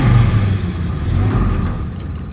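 Engine of a vintage Willys CJ2A jeep running just after starting in neutral, a loud close low throbbing rumble that steadies and eases slightly.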